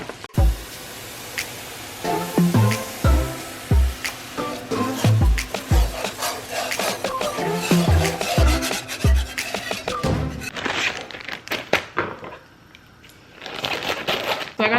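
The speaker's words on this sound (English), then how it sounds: "I'm gonna add my Alfredo mix to my butter in the skillet, whisk it up" Whisking Alfredo sauce mix into melted butter in a skillet, with steady scraping and rubbing strokes of the whisk against the pan, fairly close and loud, briefly pausing near the end.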